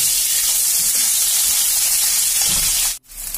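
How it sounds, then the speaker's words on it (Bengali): Onion frying in oil with five-spice seeds in a wok, a loud, even hissing sizzle heard close, with faint low stirring bumps, briefly cutting out near the end before returning. "কড়াইতে পেঁয়াজটা ভাজতে বসিয়ে দিয়েছি"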